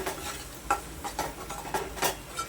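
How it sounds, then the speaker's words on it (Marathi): A spoon stirs prawn masala in a pan, scraping in repeated close strokes over a soft underlying sizzle, with no one talking. "छान असं मिक्स करून घ्यायचं"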